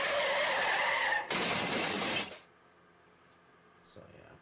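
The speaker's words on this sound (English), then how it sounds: "Car crash, hit and run." A car crash in a video game, with a loud rush of skidding tires and a harsh shattering burst that cut off abruptly, followed by quiet with faint later noises.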